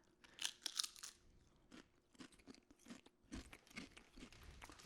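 Crisp crunching of a Lay's potato chip bitten and chewed up close, a quick burst of sharp crackles followed by softer, steady chewing.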